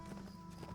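A horse's hooves clip-clop steadily in the video game LOTRO, a faint, even rhythm of muffled footfalls with a low steady background tone beneath.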